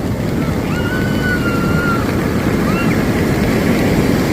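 Sea waves rolling onto the shore at Puri on a rainy day, a steady broadband wash and roar with constant surf noise throughout, no clear individual breaks standing out.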